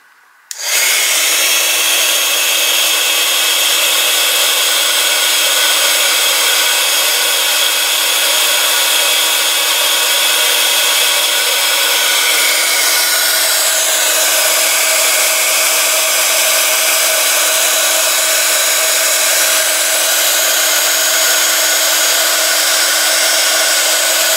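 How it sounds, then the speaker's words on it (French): A heat embossing tool warms texture paste spread on a craft card, giving a loud, steady fan whir with a high blowing rush that starts abruptly and runs without a break for over twenty seconds, close to the microphone. "je vais reprendre ma carte où j'avais mis donc la pâte de texture et je vais donc la chauffer"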